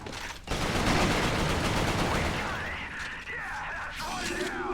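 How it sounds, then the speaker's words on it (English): Machine gun fire in the shooter game Resistance: Fall of Man: a loud, dense, continuous rattle of rapid shots that starts abruptly, then thins and fades, with whining mechanical tones trailing behind it. "I guess the machine gun must have just killed me pretty much instantly"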